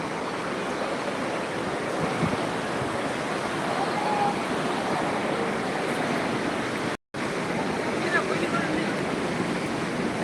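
Sea waves breaking on the beach at Digha, a steady broadband roar of surf with wind, loud and continuous throughout, with a very brief dropout near the end.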